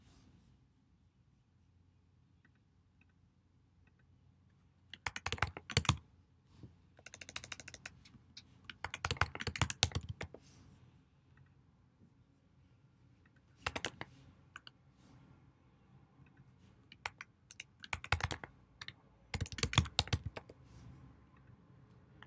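Keys clatter in fast bursts as code is typed on a computer keyboard, with short flurries separated by quiet pauses, close and moderately loud with no talking.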